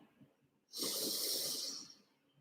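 A deep, breathy inhale begins after a pause and draws in steadily for more than a second. It is close and soft, then trails off just before singing starts.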